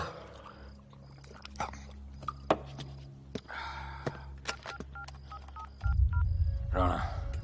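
A telephone is dialed with a quick series of tonal keypad beeps, some spaced irregularly, over a low steady hum, ending as rougher handling noise rises.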